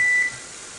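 A single steady electronic beep from an oven control panel as the heat setting is lowered, close and clear, lasting about a quarter second before fading into room noise.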